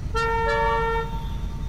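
Car horns honking in GTA 5 Online, a sustained harmonic toot starting sharply and holding for about a second, with a second horn overlapping, over low rumbling background noise.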